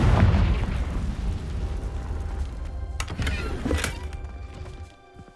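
A Confringo fire spell explodes in the Hogwarts Legacy video game, a loud low boom with rumbling debris that carries on for several seconds, sharper bursts near the end before it fades out.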